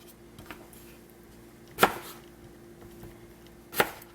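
A knife chopping through potatoes being cut into fries on a cutting board, two sharp, close, isolated chops about two seconds apart with faint handling between.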